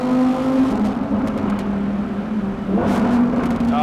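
Exhaust of a Lamborghini Huracan STO 60th Anniversary sports car revving, a loud steady engine drone with rising and falling pitch that swells again near the end, heard alone without voices.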